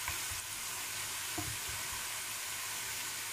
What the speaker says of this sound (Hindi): हम फ्रेंच फ्राइज फ्राई करेंगे